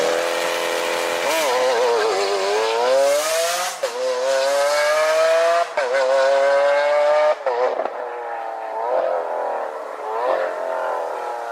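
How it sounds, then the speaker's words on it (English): A V12 car engine screams at high revs, loud and near, its pitch sweeping upward repeatedly with short breaks between pulls before easing off toward the end. "Big screaming V12s."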